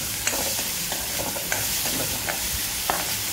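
Onion, tomato, green chili and coriander are stirred in a frying pan for paneer bhurji, a steady close sizzle broken by several scraping spatula strokes, with no voices.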